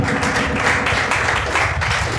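Dense, steady clapping from a church congregation fills the space for a couple of seconds, a broad rustling wash of many hands with no clear individual beats.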